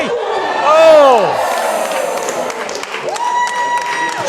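A wrestling crowd at a PEW World Championship match cheers and roars under a commentator's voice, with a swell of noise near the start, while whistles and squeaking sneakers cut through the din.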